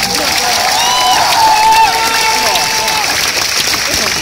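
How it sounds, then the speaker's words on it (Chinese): An audience applauds as film directors are welcomed on stage at a documentary screening, a loud sustained wash of clapping with some cheering mixed with a voice and a musical tone. "掌声欢迎所有的导演上台上来好吗？"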